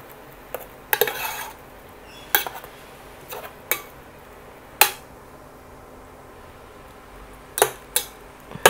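Shrimp and minced pork stir-fried in a pan, with sharp clinks and scrapes of a utensil against the pan in irregular bursts over a faint low hum.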